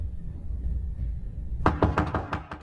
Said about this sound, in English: she is startled by a series of loud banging on her door